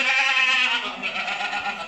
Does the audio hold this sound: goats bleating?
yes